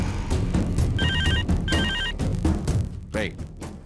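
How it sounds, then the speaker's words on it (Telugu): A telephone ringtone rings in repeated electronic bursts, loud and close, over a dramatic music score. "ఫోన్ మోగుతుంది చూడు."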